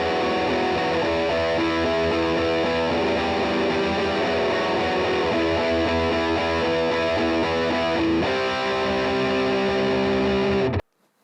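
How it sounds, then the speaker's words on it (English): An electric guitar runs through a heavily distorted Boss Metal Zone distortion pedal with the gain turned up high, producing thick, sustained chords and riffs that stay loud and steady before cutting off abruptly near the end. "swipe that distortion dial and get a more of an overdrive sound to an absolutely filthy sound"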